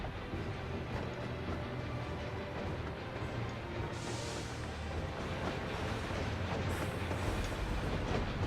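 A train in the Final Fantasy XIV: Dawntrail video game gives a steady, dense rumble with rattling clatter throughout, loud and continuous with a brief hissing burst partway through, and no speech.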